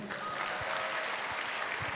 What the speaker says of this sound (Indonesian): Tepuk tangan buat kalian semua yang ada di sini dong